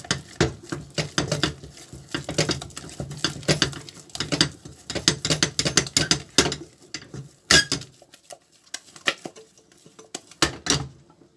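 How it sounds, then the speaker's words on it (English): A wooden stick turning ground rice swallow in a pot, producing irregular knocking, scraping and clicking strokes in quick uneven bursts, fairly close and alone. "Now let's do the last turning of the swallow and let's see how it goes."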